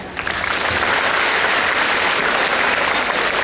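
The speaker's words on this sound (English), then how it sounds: "I'll stop or conclude my speech with 5 minutes. Clap." Steady, dense applause from a seated audience at a college award ceremony, a continuous wash of many hands clapping at close-to-moderate distance, loud and even throughout with no speech over it.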